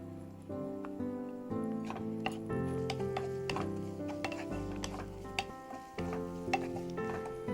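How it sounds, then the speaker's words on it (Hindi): Onions sizzle in hot oil in a pan while a utensil stirs and scrapes with repeated knocks and clatters, moderately quiet and close, with no speech. "जब तेल गरम हो जाए हम डालेंगे प्याज"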